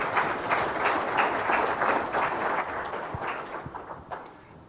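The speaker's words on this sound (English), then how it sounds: "let's give Mr." Conference attendees at a North Dakota transportation event applaud a guest speaker being introduced, a full wash of clapping that holds strong and then thins into scattered claps as it tapers off.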